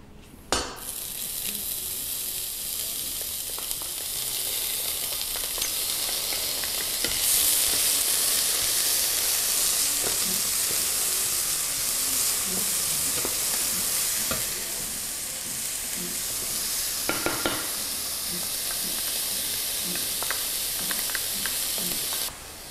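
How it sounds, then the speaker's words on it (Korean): Onions sizzle and fry in preheated hot oil in a pan. A continuous close hiss, with occasional stirring clatters and spits, runs without talk. "기름을 두르고 오일이 잘 퍼져나가는 거 보니까 예열이 충분히 됐네요. 제일 먼저 양파부터"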